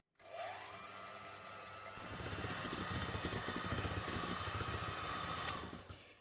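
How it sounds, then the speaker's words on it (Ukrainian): A handheld electric mixer whips soft room-temperature butter until pale for a Napoleon cake, a steady motor whine that grows louder and grittier as the beaters churn, running continuously for several seconds before cutting off. "За допомогою міксера ми його взбиваємо до побіління."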